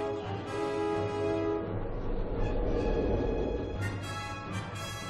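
A steam train rumbles and clanks into motion, with a sustained horn-like tone and heavy mechanical chugging building over a few seconds.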